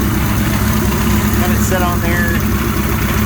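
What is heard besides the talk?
Suzuki GS 1100E motorcycle engine idling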